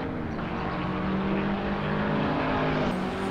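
Engines of a Honda Civic FK8 and a Toyota GT86 racing close together in Assetto Corsa, a continuous loud droning whine with steady revving, one car tailing the other.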